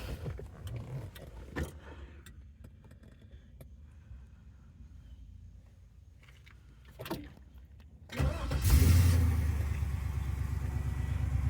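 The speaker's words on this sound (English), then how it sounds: "Push button start." A 1968 Pontiac Firebird restomod with an LS1 engine is started by push button: a few soft clicks in near-silence, then the engine cranks and catches into a loud, steady, rumbling idle that runs to the end.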